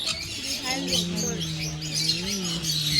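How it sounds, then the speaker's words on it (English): Many bird species sharing an aviary at a pet sanctuary, chirping and tweeting in quick high calls throughout while a person talks nearby. "different species birds, different community of birds live together inside. It's called aviary."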